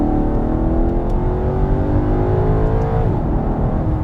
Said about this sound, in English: listen to this engine note